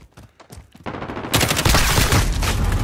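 Rapid gunfire in a multiplayer shooter video game, several quick shots growing into a loud sustained burst of fire near the end.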